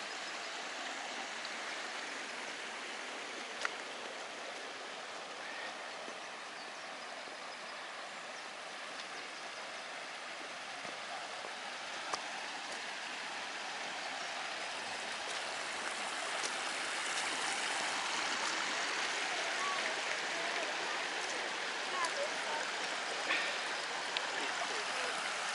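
A mountain stream in the Eastern Mecsek hills near Óbánya, flowing with a steady, broad rushing wash that stays even throughout and has no voices over it.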